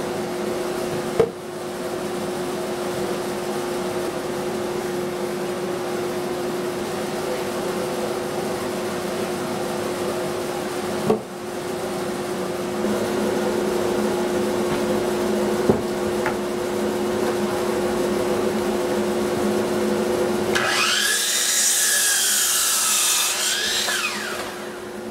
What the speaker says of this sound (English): go to the bandsaw and cut out the rest of the rafter